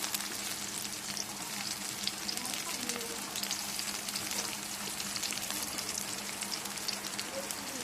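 Chopped onion and garlic fry in a pan for a Bangladeshi jute leaf (pat shak) dish, giving a steady, dense sizzle that stays even throughout without pause, with no one speaking.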